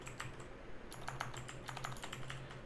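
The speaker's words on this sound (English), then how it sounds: "I need to seriously work on my typing speed" Rapid keystrokes on a computer keyboard while coding a Rust chat server, quiet and close, in irregular bursts of clicks with short pauses and no talk.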